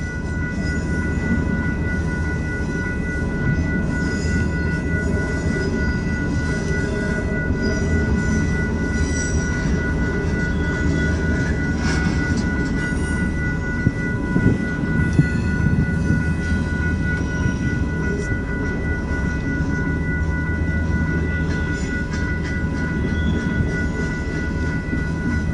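An Auto Train rumbles steadily as it pulls away, a dense low rolling drone with faint wheel squeal and a sustained high tone above it, no voices.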